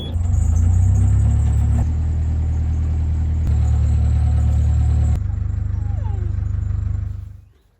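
A narrowboat's engine runs steadily, a loud, close low rumble with constant throb, holding level for several seconds before dying away at the end.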